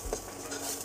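A spoon stirs flour and butter in a pan on a low flame, a soft continuous scraping and faint sizzle, close and quiet, with no talk.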